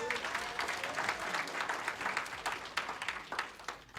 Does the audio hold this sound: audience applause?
yes